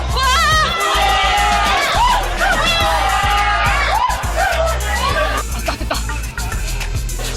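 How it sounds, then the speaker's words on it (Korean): A crowd of students erupts in mixed cheers and groans at the instant a university course-registration countdown hits zero, loud and dense, with shouts and chatter rising and falling over the full stretch. "함성과 탄식이 엇갈리는 순간"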